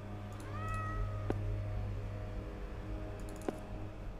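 A cat meows in a rising, drawn-out call with a couple of short, sharp clicks, heard over a steady low hum from a game being played.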